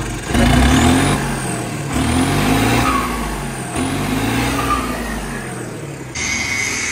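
A tractor engine fitted with a modified turbo revs up and settles in about four repeated swells, loud and close, with a rising turbo whine riding over the deep engine rumble.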